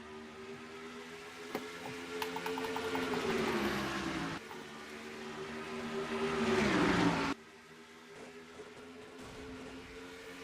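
Stock cars in a racing game pull away at the start of the GM Goodwrench Service 400, a steady engine drone that swells with revving, then drops off abruptly.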